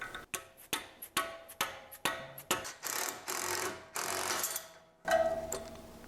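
Ratcheting tool working a ball joint separator on a BMW E38 740i front suspension, a series of sharp metallic clicks in a regular rhythm, then longer grinding ratchet strokes, close and fairly quiet.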